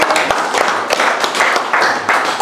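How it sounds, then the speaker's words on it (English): A small audience giving a quick round of applause at a presentation: close, dense, loud clapping holding steady throughout with no talking. "So let's do a quick round of applause and welcome."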